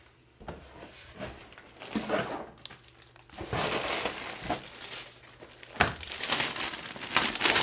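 A plastic bag is torn open and crinkled during an unboxing, with repeated rustling and crunching bursts growing busier toward the end, close and moderately loud, with no voices.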